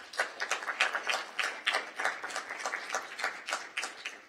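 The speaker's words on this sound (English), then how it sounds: "So give all the faculty members a big applause." An audience gives a big round of applause for faculty members at a cardiac amyloidosis conference, a moderate, even patter of many hands clapping for several seconds without any speech.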